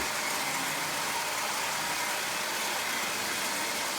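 Toy locomotive built from a Lionel 8902 shell driven by a Marx single reduction motor, running with a steady, dense whirring hiss that holds constant throughout, close and fairly loud.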